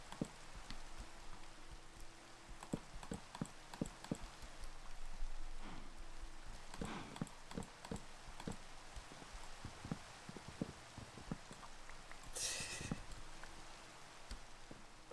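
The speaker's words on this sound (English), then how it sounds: "Or it could be the rain." Steady rain falls in a multiplayer video game, a dense, even patter that carries on alone for the whole stretch, with scattered sharper ticks and clicks over it.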